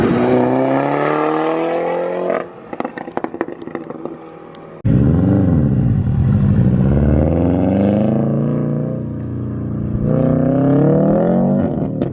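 At an autocross event, a car engine revs hard and accelerates, loud with climbing pitch sweeps, dropping briefly to idle and crackle before roaring up again through repeated gear pulls, no talk.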